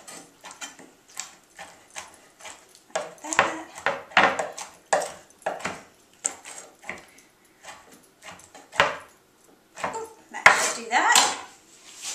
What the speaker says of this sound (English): I'm taking a handful of the olives, and I'm just going to kind of roughly chop them up